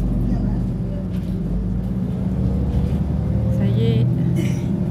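A car cruises along the new road built over the sea at Saint-André on Réunion island, a steady engine and tyre rumble with wind noise throughout, while people talk over it inside the vehicle.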